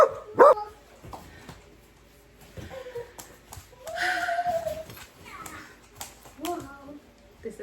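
A dog barks a few sharp times amid a busy indoor room, with a voice and adult talking mixed in around the barks.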